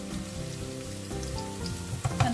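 Garlic sizzles in a hot pan while pork adobo is being cooked, a steady crackling hiss under a low humming background, with a couple of louder pops near the end.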